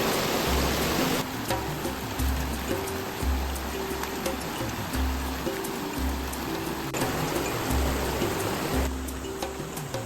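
A river flows with a steady, even rush of water, close and continuous, with a low intermittent hum underneath and no voices.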